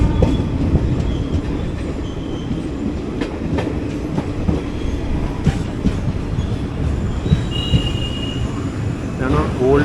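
A train running on the main line near Baiyappanahalli on the Madras road, with continuous rumbling clickety-clack of wheels and brief high squeals, loud and close throughout.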